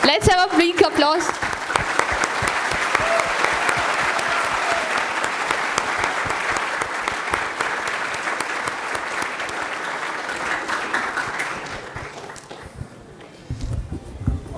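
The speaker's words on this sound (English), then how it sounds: "Let's have a big applause." An audience at an on-stage event breaks into sustained applause, steady dense clapping that goes on for about twelve seconds before fading, with some talk underneath.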